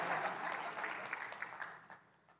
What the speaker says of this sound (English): Hey, clap it up.